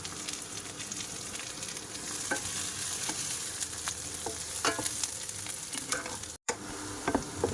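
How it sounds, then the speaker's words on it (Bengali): Chopped onions and green chillies frying with five-spice seeds in hot oil in a wok, giving a steady close sizzle with occasional stirring scrapes, no talking. "পেঁয়াজটা একদম লাল লাল করে ভাজে নিয়েছি"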